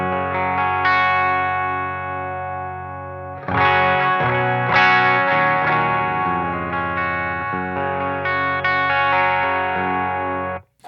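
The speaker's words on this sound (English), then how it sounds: "Maybe I'll just go onto a clean super fast so you can just hear the pickups in a clean." Music Man Kaizen electric guitar played through the bridge pickup on a clean tone: loud strummed chords ring out with long sustain, then a fresh burst of chords, with no voices.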